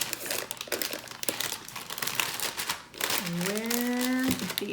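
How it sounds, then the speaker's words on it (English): Parchment paper being handled and crinkled while covering a fabric-decoupaged flower pot, with close, busy rustling throughout and a short tonal squeak or hum toward the end. "You just take the parchment paper, I've got a length of it here"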